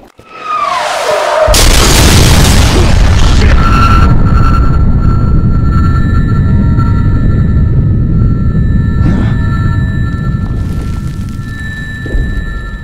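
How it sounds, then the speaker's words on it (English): A mortar shell explodes during street fighting in wartime Sarajevo in Sniper Ghost Warrior 2, a very loud, close boom that rolls into a long, heavy rumble lasting many seconds before slowly easing off. "Serbs appear to be shelling the buildings at random"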